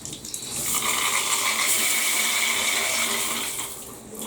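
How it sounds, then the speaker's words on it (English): Steady rushing water pours continuously onto a shower tub with a broad hiss, loud and close, holding constant for several seconds before easing slightly at the end. "let's get a little bit of water on here"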